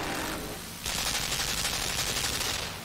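Gun firing in the side-scrolling puzzle game Limbo, a dense burst of rapid shots kicking in after a short lull and continuing steadily, loud and close with no talking.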